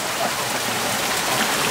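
Water pours steadily from an all-wooden pipe fed straight from a waterfall in Transylvania, a continuous broadband splashing rush with no talking.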